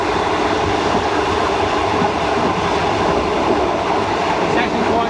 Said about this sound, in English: It's actually quite nice to be back on a really old rolling stock